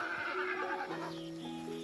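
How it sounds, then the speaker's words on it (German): A small horse in the video game Hytale whinnies once, a clear, high, wavering neigh that is fairly close and stands alone without talk. "Da drüben gibt's noch kleine Pferdchen."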